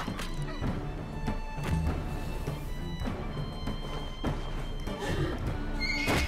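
A horse neighs in Wartales amid clashing combat sounds, thuds and impacts, with busy layered game audio throughout.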